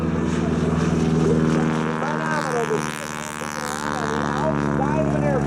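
A propeller biplane carrying a wingwalker on its top wing passes down the show line at the 2013 Battle Creek Field of Flight air show, its engine a steady, loud, droning hum under an announcer's commentary.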